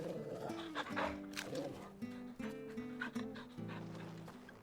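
A dog in the video game Final Fantasy XVI pants and whimpers softly over a quiet game music bed, with short whines rising above steady tones.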